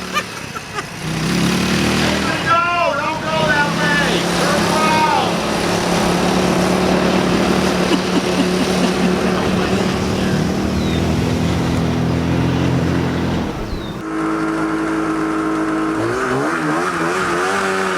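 A go-kart fitted with a swapped snowmobile engine drives flat out, its loud buzzing engine droning and shifting in pitch as it accelerates and holds speed, then drops to a lower steady tone near the end, close to the rider.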